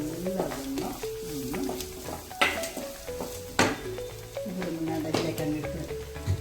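Crushed garlic and ginger frying in a pan for a chicken curry, with a steady sizzle under frequent spoon scrapes and clinks against the pan, close and moderately loud, with speech nearby.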